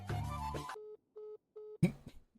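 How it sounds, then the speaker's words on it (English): Phone ringing in a GTA 5 roleplay game session: three short, evenly spaced electronic ring bursts sound alone between brief patches of background noise. "Borat, your phone's ringing."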